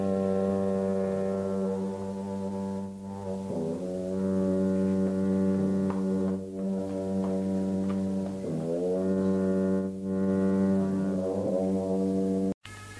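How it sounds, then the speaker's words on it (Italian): Long copper trumpets from Bhutanese Buddhist ritual music drone deep and loud in sustained, buzzing tones that waver in pitch and pulse with breaths, close and continuous throughout. "i suoni profondi delle lunghe trombe di rame"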